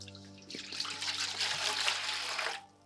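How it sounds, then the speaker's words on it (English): Water poured from close by into a bowl of fake snow powder, a steady trickling and splashing that runs for about two seconds on its own before stopping. "I've got some fake snow here. I can sprinkle into this bowl. Just add some water."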